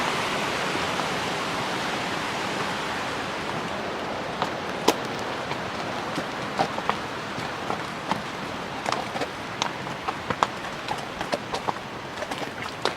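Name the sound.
mountain stream flowing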